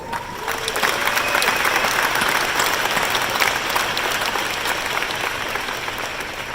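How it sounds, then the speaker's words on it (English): An opening-night conference crowd gives sustained, loud applause for a trade commissioner and her team, a steady wall of clapping with faint crowd noise underneath. "who deserve a huge, huge round of applause"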